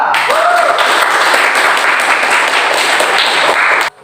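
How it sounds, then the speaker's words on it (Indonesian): A classroom audience applauds a student group's presentation, a dense burst of clapping lasting several seconds before stopping abruptly, with faint voices mixed in. "Beri aplaus untuk kelompok 2"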